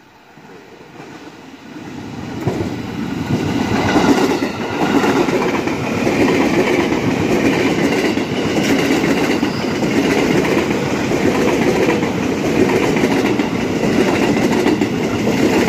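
A red KRL commuter train rolls through Cibitung station, its sound swelling from quiet into a loud, continuous rumble of wheels and carriages with rhythmic clatter on the rails.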